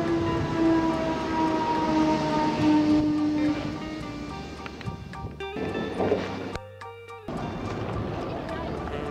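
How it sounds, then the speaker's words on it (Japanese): A train rolls into a Japanese station platform bound for Oteramachi, its rumble and tonal hum building and then settling, with a brief pause in the noise near the end before the steady platform sound resumes. "まもなくお寺町行き列車が参ります"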